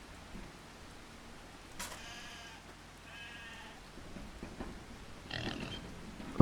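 Pigs on a farm in Farming Simulator 25: a few scattered squeals and grunts, fairly faint, rise over a quiet barn background.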